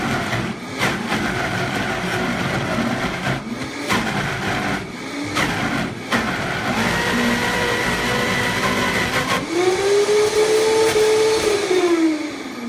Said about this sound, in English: So I'm going to use my Vitamix, and we're going to turn it on